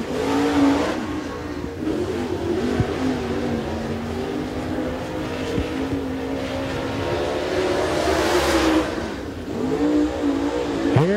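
Super late model race car engine at Smoky Mountain Speedway during qualifying, a loud sustained roar that rises and falls as the car circles the track, with another car passing near the end.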